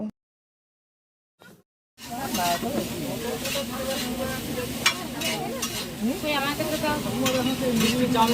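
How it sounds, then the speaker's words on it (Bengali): Chicken pakoras frying in oil at a busy outdoor food stall: a continuous loud sizzle and bubbling with clinks from cooking, starting after a brief silence and running steadily, with faint background chatter. "ভাজা হচ্ছে"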